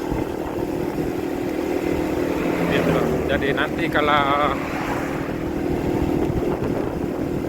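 Motorcycle cruising slowly on a slippery wet road, a steady low engine hum mixed with wind rush, while someone talks over it.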